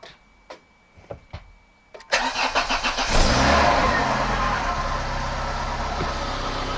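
A Volvo 480 engine cranks with a few quiet clicks, then catches and roars to life, settling into a loud, steady idle with an exhaust leak.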